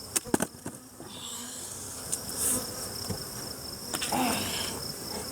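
Honey bees buzz steadily around an open backyard hive during a honey harvest, a dense insect drone with a few louder passes near the listener.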